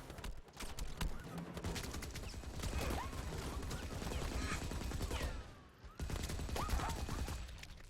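Sustained video game gunfire, dense overlapping bursts and crackling shots layered with clanking and rumbling battle noise, continuous and fairly loud with a brief dip before resuming.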